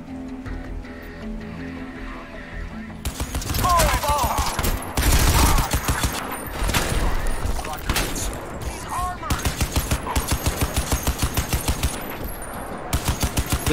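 Rapid automatic gunfire rattles through a Crysis 2 firefight, long bursts and fast repeated shots with heavy impacts and explosions, loud and close, a voice talking over parts of it.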